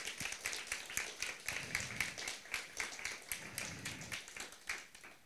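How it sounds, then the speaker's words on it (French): Applause at an evening awards ceremony for an audiobook prize, faint and distant, with distinct individual claps from a modest crowd in an uneven rhythm. "donc, et qu'on applaudit bien fort."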